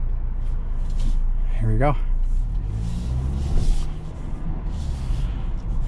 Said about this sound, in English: Turning the air conditioning off so you can hear the road noise that comes with the Bronco.